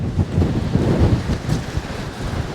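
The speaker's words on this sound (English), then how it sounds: "That wind is not letting up." Strong wind buffets the microphone on the Dorset coast during Storm Darragh, a loud continuous low rumble with gusty surges and a surf-like roar, no voices.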